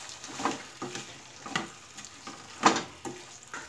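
Stuffed brinjal and tomato sautéing in a pan, a soft sizzle broken by repeated scraping and stirring strokes of a spatula, quiet and close.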